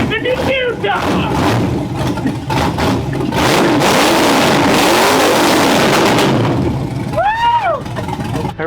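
A restored 1957 Chevy Bel Air engine runs loud and close, its pitch rising and falling through repeated revs, with voices briefly audible near the start and end.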